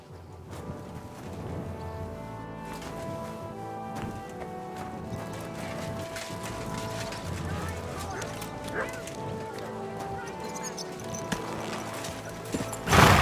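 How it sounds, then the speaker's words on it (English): Rhythmic clip-clop of horse hooves in the video game Kingdom Come: Deliverance II runs steadily under game music and chatter, with a brief whinny and a louder thump at the end. "Is this your first time riding a horse"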